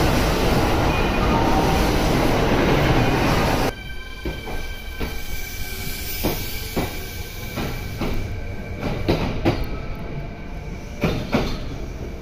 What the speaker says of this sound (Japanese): 青山町行き急行到着です